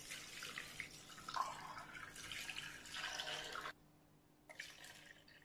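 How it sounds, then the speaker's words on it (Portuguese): Tap water pours steadily into a pot holding washed, rinsed glass jars for sterilizing. The splashing rush runs loud and continuous, cuts off briefly near the end, then starts again. "Agora eu vou colocar água."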